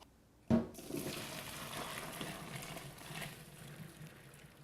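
Water from cooked pasta pours out in a sudden rush as the pot is drained, a steady splashing gush that starts abruptly and continues, gradually easing.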